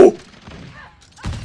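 Explosive crossbow bolts detonate in Call of Duty: Modern Warfare 2, a sharp blast at the start fading into rumbling debris, then a second loud burst near the end.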